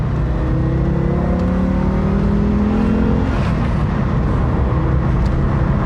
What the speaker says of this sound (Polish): jeśli chcemy dać gazu i posłuchać tego 5-cylindrowego silnika